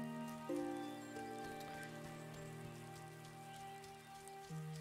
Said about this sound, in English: So since it's raining